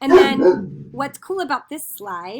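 A dog barking indoors in two or three short yips near the start, close and fairly loud, then a person talking over the rest.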